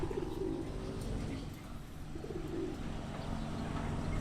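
Several pigeons coo in low, repeated murmurs amid steady outdoor background noise, fairly distant and soft, with no talking.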